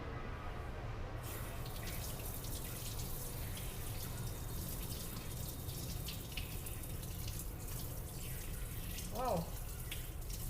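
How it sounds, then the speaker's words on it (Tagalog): Tap water runs steadily into a sink while jewelry is rinsed, a soft continuous splash with a faint clink near the end, fairly quiet and close. "Tapos basahin natin ng tubig."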